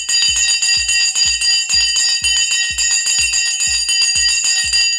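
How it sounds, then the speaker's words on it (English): A stock market closing bell rings loudly and insistently, a continuous metallic clanging with rapid regular strikes that holds steady throughout without pause. "The bell has now gone"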